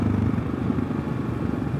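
A 2022 Kawasaki KLR650 big single-cylinder adventure motorcycle fitted with a Yoshimura RS-2 exhaust idles with a steady, deep low thump, close and continuous with no voices.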